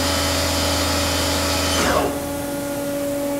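A Haas Super Mini Mill vertical machining center spindle winding down from high RPM, a steady machine whine with a low hum that cuts out partway through, leaving a quieter continuing tone.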